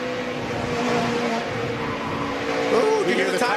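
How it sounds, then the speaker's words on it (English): Race truck at the 2013 NASCAR Camping World Truck Series WinStar World Casino 400k, heard from onboard: a steady loud engine drone with a rising squeal of tires near the end, under a busy broadcast wash. "Ooh, you hear the tires?"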